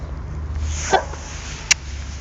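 A dog named Odi gives a single short bark while playing in a yard, followed by a sharper brief yip, both standing out over a low steady background rumble.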